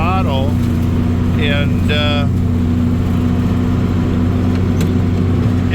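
A farm tractor engine runs at about three-quarter throttle, a steady mid-pitched drone that holds even and loud throughout. Someone talks over it at the start.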